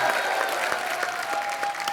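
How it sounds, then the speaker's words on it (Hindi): Enthusiastic studio audience applause on a Hindi TV comedy show greets arriving guests, a dense steady wash of clapping with a few cheers, loud and continuous throughout. "आप सबकी जोरदार तालियों के बीच इनवाइट करना चाहूंगा"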